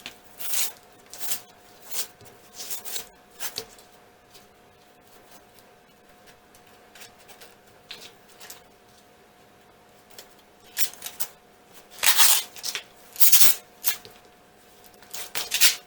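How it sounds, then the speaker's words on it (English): Binding being ripped off a wire lampshade frame, heard as scattered dry tearing and rasping bursts, quiet at first and louder in clustered pulls near the end, with no voices. "it just makes it a little easier if you can find the end of that and just rip that off"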